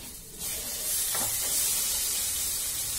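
A bay leaf hits hot oil with frying spice masala, setting off a sudden steady hiss and sizzle that stays loud and constant after a quieter opening.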